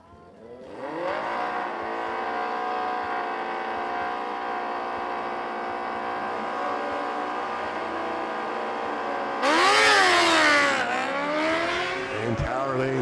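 Drag racing cars launch down the strip in a roaring, sustained high-revving engine blast that holds steady, then shifts and swells near the end with tire noise, loud and close at the track.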